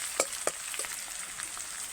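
Onion frying in oil in a village-style kitchen, a quiet steady sizzle with a few sharp crackles and pops near the start, no voices.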